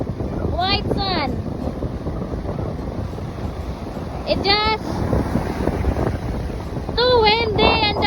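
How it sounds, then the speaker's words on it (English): Strong wind buffets the microphone on a Miami beach with big waves, a steady roar throughout, while people talk briefly in bursts over it. "too windy and the wave is so big right now"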